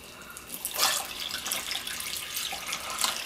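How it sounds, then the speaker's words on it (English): Water is poured onto a small bubbling rock volcano water feature, a steady splashing trickle with rushing surges and dripping, close and moderately loud, with no talk. "I'm going to pour the water"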